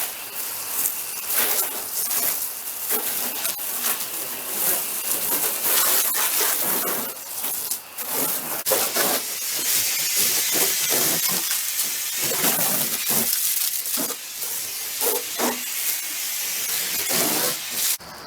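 Water from a hose sprays and hisses against a 2023 C8 Corvette during a rinse, a loud, continuous splashing with uneven bursts as the stream moves across the body.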